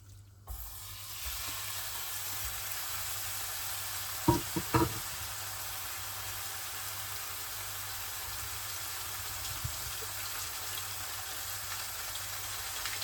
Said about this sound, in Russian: Хорошенько ее сейчас обжарим.